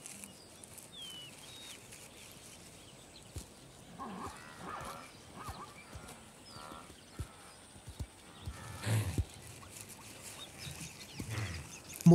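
Zebras in a herd on the grassland of the Ngorongoro Crater in Africa, with steady hoof clip-clop and occasional whinnies, moderately near over a quiet outdoor background.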